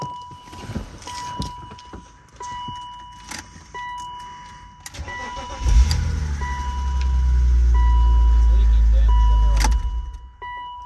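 A car engine cranks and starts after a coolant hose is tightened to stop a small leak, then settles into a steady loud idle, preceded by rattling keys and clicks close by.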